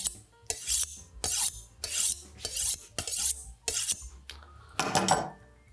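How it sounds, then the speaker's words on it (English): A kitchen knife is drawn along a honing steel in a series of quick, bright metallic rasping strokes, about seven or eight close, loud swipes in a steady rhythm, with no talk. "A couple of pulls on the honing steel."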